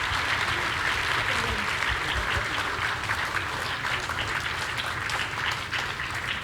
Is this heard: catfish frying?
no